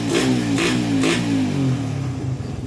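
A motorcycle engine fitted with a 28mm Keihin carburetor revs in three quick blips, then settles into a rough, uneven idle, loud and close.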